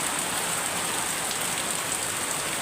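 Steady rain falls on potted imported rose plants outdoors, a dense continuous hiss of drops with no breaks and no voices.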